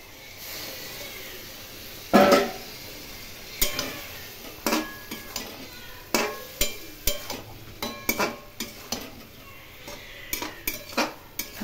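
A spoon stirs chunks of jackfruit and large-cut potatoes in spice mix in a pan, each stroke giving a clear scraping clink against the metal, repeating at a steady rhythm under a faint background sizzle, with no talk.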